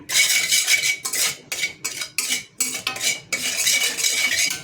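A metal spoon stirs salt, chili masala, turmeric, chaat masala and amchur powder into oil in a pan, giving repeated scraping clinks in short rhythmic strokes, close and clear with no talking.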